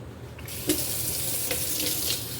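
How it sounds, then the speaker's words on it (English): Steady running water from a kitchen sink tap as sausages are rinsed beneath it, a continuous close broadband splash with a few small knocks and shifts in the flow. "Yeah, I know, but I'm gonna rinse them again."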